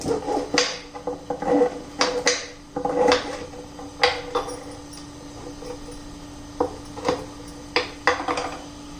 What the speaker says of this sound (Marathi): सगळं खोबरं मी चिरून घेते